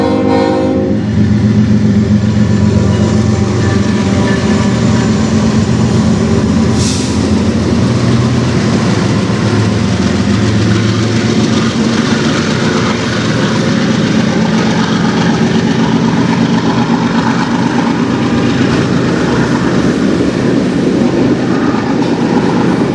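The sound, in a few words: freight train passing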